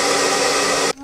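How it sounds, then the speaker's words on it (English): A blow dryer aimed at an action figure's neck piece to soften it, running as a loud, steady whooshing drone for about a second before cutting off abruptly. "It needs another shot with the blow dryer."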